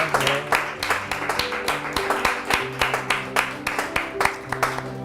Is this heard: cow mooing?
no